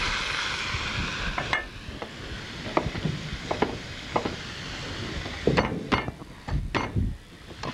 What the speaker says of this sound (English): All we're doing is browning the chicken.